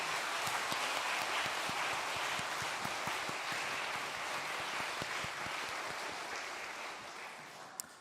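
A church congregation applauds during a Sunday afternoon service, a soft, even wash of many hands clapping heard from a distance that slowly fades over about eight seconds.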